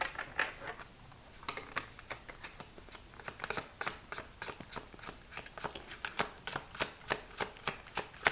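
Gold Sun Tarot cards are shuffled by hand nearby, producing a rapid run of crisp riffling snaps in an even rhythm with no talking.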